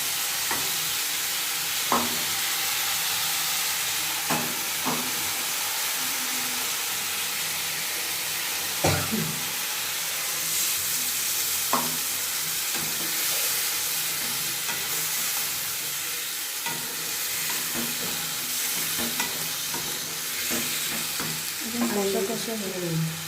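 A paste of ground ginger, green chili and tomato with cumin powder fries and sizzles steadily in a pan for the whole stretch, with scattered clicks and scrapes of a spoon stirring; no one speaks.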